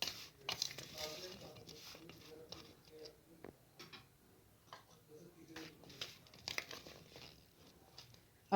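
Chickpeas, potatoes and spices are tossed together in a bowl for chana chaat, giving irregular soft clinks, scrapes and rustles of utensil against dish, close and fairly quiet.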